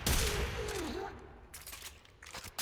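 Kuva Hek shotgun fired in Warframe, a rapid cluster of loud, heavy blasts at the start, then a few more sharp shots near the end, with faint voice in the background.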